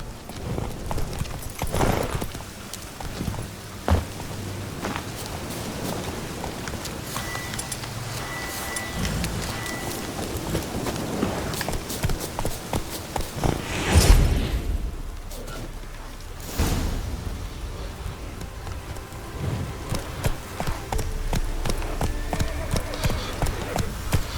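Horse hooves clop steadily while riding in the video game The Witcher 3, a continuous trotting rhythm beneath rain-like ambience and a dense game soundscape, with one louder burst midway.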